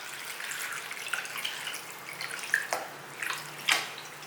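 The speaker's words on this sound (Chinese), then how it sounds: "把莲藕放入碗中，加入过滤水浸泡" Filtered water pours into a bowl of sliced lotus root, a soft, steady splashing and trickling with a few brighter splashes, faint and close, with no voices.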